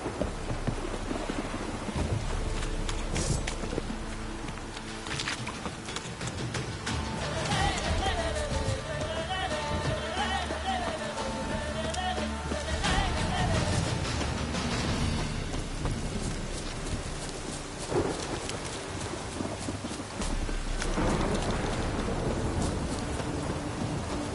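Heavy rain pours steadily in a Witcher 3 game world, with deep thunder rumbling loudly through the downpour and rolling peals swelling in the middle; a faint musical tone rises and falls over the storm.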